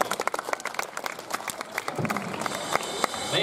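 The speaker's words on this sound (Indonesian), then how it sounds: "Boleh kita beri tepuk tangan sekali lagi." Applause from a school audience of junior high students after a dentist's talk, scattered claps building to a steady mid-level patter with some crowd noise underneath.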